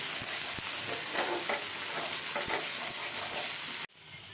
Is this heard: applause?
no